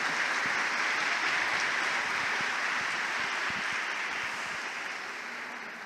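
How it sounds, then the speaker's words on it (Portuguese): Sustained applause from a large crowd, dense and steady, slowly tapering toward the end. "vamos aplaudir"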